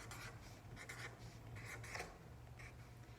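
A pen scratches out a word on a paper strip for a rainbow acrostic poem craft, with soft, close scribbling strokes in short bursts over a steady low background hum.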